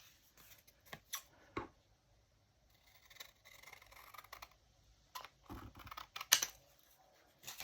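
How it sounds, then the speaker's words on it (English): Scissors snip the ends off paper craft tags, giving several sharp, close cuts with short pauses between them in an otherwise quiet room. "I'm going to cut these ends off."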